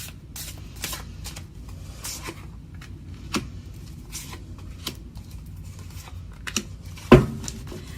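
Psychic Tarot cards are shuffled and drawn up close, with repeated crisp riffling snaps and flicks at irregular intervals and one sharper slap near the end, in an otherwise quiet room without talk.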